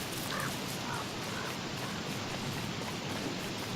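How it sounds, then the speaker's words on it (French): Steady rain falls in the Don't Starve video game, a dense, even hiss of rainfall with faint crow-like caws early on, the sound holding constant throughout. "Il pleut. J'aime pas."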